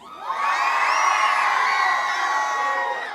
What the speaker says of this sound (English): Let's hear you scream for Batman.